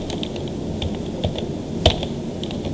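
Keys clicking on a computer keyboard during software data entry, a scattering of light taps with one sharper keystroke near the end like Enter being pressed, set against steady background hiss.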